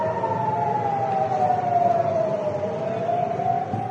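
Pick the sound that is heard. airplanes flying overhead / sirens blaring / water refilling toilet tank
sirens blaring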